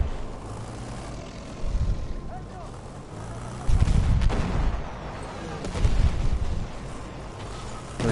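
Rocket guns fire during a Battlefield 1 multiplayer match, heard as heavy booming blasts in three rumbling bursts over a constant battlefield roar, with a commentator talking throughout.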